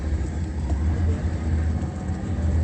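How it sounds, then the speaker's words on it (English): A Foothill Transit bus rumbles at a steady idle nearby with its engine shutting off, a low continuous diesel drone filling the short stretch with no talk. "That was Foothill Transit that turned off the ignition of the bus"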